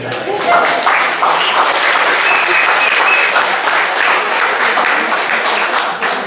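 Loud, dense applause from an audience honouring award recipients at a Paris ceremony, continuous clapping throughout with a brief whistle or cheer over it.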